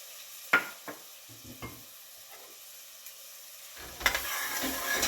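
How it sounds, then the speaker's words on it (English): Chopped onion and celery sautéing on medium-low heat in a stew pot, a soft steady sizzle with a few sharp stirring clicks and scrapes, growing fuller near the end. "So I'm going to saute that on medium-low heat."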